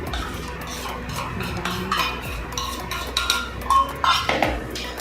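Gram flour being mixed in a bowl for methi bhajiya batter, with a spoon clinking and scraping against the bowl in irregular close strokes, louder toward the end.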